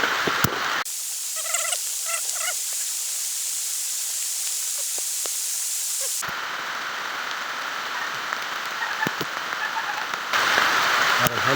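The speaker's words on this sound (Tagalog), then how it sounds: "Yan yung ulan." Steady rain hisses across the whole recording, with scattered drips and patter on a surface nearby and a few faint knocks; no talking.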